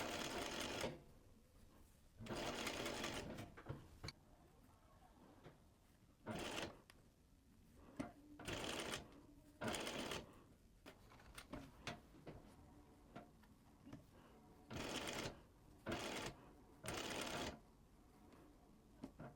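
A sewing machine stitches the neckline of a fabric garment in several bursts, each a few seconds long, starting and stopping with quiet gaps between runs, close and clear.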